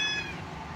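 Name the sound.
cat meowing while being fed chicken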